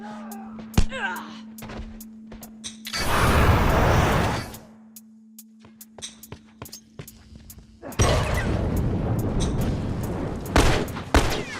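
Rifle fire crackles in a zombie video game, with scattered sharp shots and two sustained bursts of loud, dense gunfire, backed by a low electronic hum.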